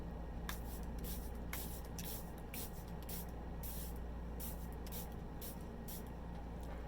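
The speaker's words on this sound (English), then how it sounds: "let me put some setting spray on" Charlotte Tilbury makeup setting spray is misted in a series of short, close hissing bursts, about a dozen quick pumps spread across a quiet room background.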